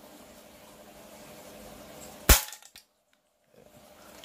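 A spring-powered Kimber Carry 1911 toy pistol fires a single sharp test shot, a loud close crack that follows faint background hiss and then drops to near silence.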